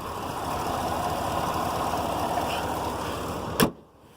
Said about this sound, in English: Hood shuts nice